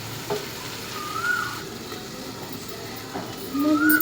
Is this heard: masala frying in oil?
yes